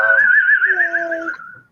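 One person gives a single clear, close whistle, a wavering high note held for over a second before it fades, with faint lower tones alongside.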